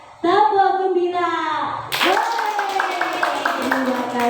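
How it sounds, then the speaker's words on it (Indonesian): Kindergarten children perform a rhythmic "happy clap" routine with chanting voices, a sung call followed by rapid patterned clapping in quick bursts, fairly close and loud, at a school socialisation session. "Tepuk gembira."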